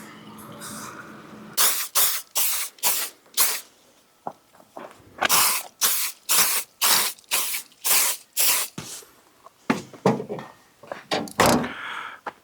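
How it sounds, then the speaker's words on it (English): Repeated short hissing bursts of a bug spray aerosol can, about a dozen in a quick irregular rhythm, loud and close, with no talking, outdoors at night in Acadia National Park. "Go grab some bug spray."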